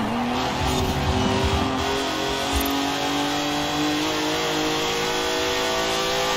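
An upgraded, very fast car racing in Forza Horizon 4, its engine droning loud and continuous as it accelerates, with a faint tire squeal and no voices.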